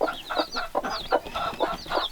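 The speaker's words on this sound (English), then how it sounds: "They are kind of 4th generation chicks here on our property." Chickens and young chicks cluck near at hand in a quick, uneven series of short calls, with high chirps mixed in among the lower clucks.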